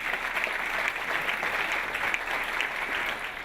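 Steady applause for councillor José Carlos Novelli, president of the Mato Grosso Court of Accounts, at a seminar on the effectiveness of audit court decisions, a dense, even wash of hand clapping from an audience lasting throughout.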